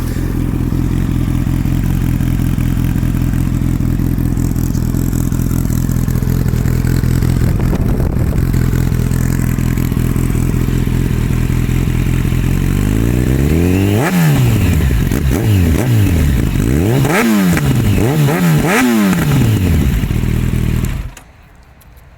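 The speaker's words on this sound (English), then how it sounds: "I love that overrun burble as well, those cracks, those pops, all the rest of it." A 2009 Yamaha FZ1 motorcycle engine idles loudly up close, then is blipped through a series of sharp rising and falling revs before being switched off abruptly.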